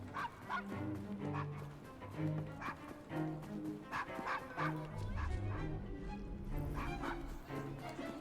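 A dog in an Assassin's Creed video game barks repeatedly in a rapid, continuous series, loud and close over game background sounds.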